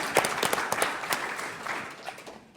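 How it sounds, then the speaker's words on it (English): Applause from the audience at an offshore wind conference session at Stockton University in Atlantic City, a brief burst of scattered clapping that swells early and then thins out and fades over a couple of seconds. "let's give them a round of applause"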